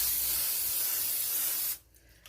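Cooking spray hisses onto a sheet of wax paper meant for covering sticky dough, one steady close burst lasting under two seconds before cutting off into quiet room sound.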